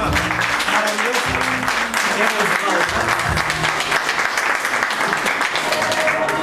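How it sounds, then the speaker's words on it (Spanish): Wedding guests at a celebration in Cuba break into loud, sustained applause after a poem is read, dense clapping filling the room with some voices mixed in. "nuevamente pido el fuerte aplauso para este poema."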